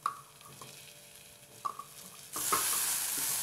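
Thick tomato paste sizzles in a pan with onions, a spoon scraping and stirring in short bursts before the frying hiss swells loud and steady, close by with no voices.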